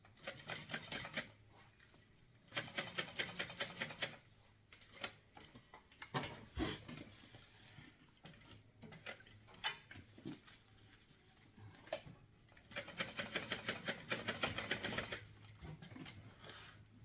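A sewing machine top stitches a purse strap in quiet fast rhythmic bursts of needle ticking, with pauses and small handling clicks between runs.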